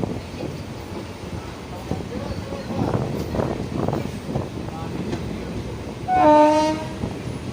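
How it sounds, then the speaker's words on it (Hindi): The Gomti Nagar–Pilibhit passenger train rolls along with a steady rumble and rail clatter, someone speaking over it, and a loud horn blast near the end. "यहाँ ये गोमती नगर पीलीभीत गोमती नगर पैसेंजर ही है।"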